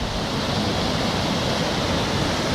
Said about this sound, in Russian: как вода наскакивает на камни и подпрыгивает